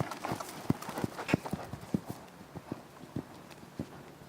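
A horse canters in a riding arena, its hooves thudding in a steady three-beat rhythm, moderately close and fairly soft, with no clear talking.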